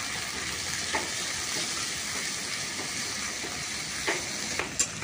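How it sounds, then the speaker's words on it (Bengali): Garlic, ginger and cumin paste frying in oil with onions gives a steady close hiss and sizzle throughout, with a few soft stirring clicks and pops, and no voices. "এরপর আমি এখানে দিয়ে দেবো এই যে রসুন বাটা, আদা বাটা আর এই জিরে বাটা দিয়ে এবার ভালো করে এগুলোকে আমি ভেজে নেব"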